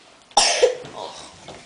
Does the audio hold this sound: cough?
yes